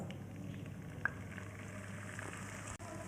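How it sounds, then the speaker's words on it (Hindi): Cumin seeds and chopped onion frying in hot oil in a kadai, giving a steady, soft continuous sizzle close by with one small pop, no voices. "ज़ीरे को थोड़ा मैंने फ्राई कर लिया और साथ में प्याज"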